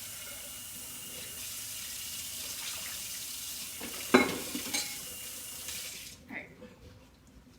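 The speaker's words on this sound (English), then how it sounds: "so just rinsing this off" Running tap water splashes into a bowl being rinsed in a home kitchen, a steady close hiss with a few knocks and clinks near the end before it cuts off, with brief talk.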